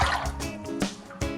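Water trickles and splashes into a container of almonds for orgeat syrup, several short pours and drips at close range, fairly quiet.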